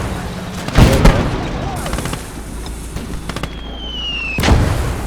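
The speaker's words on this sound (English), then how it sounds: "the field gun is firing at me" Field gun fire in the Call to Arms Gate of Hell war game, two heavy booming blasts a few seconds apart over rattling battle noise and a brief whistling tone.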